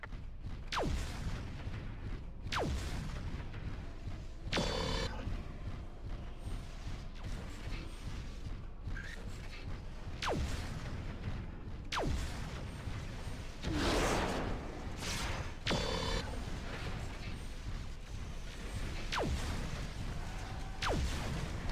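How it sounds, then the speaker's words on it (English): Repeated explosions and weapon booms ring out in the mech combat game MechWarrior 4: Mercenaries. Loud blasts come every few seconds over a constant mechanical rumble, with some whooshing between them. "I did take some damage there from his explosion, which I always hate doing."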